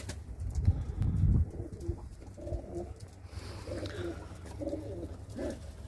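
Turkish tumbler pigeons coo close by in soft, rounded, repeated calls, starting after a brief burst of rustling noise and continuing in a calm rhythm.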